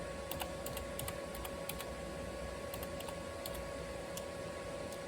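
Quick bursts of clicking keystrokes on a computer keyboard as a command is typed into an Ubuntu terminal, close and crisp over a steady background hum, with brief pauses between the clusters of taps.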